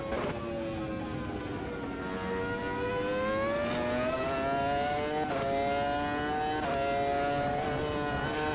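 V10 race car engine in the Automobilista 2 racing game, revs climbing smoothly through several gear changes with a loud, sustained high-pitched wail and brief dips at each shift.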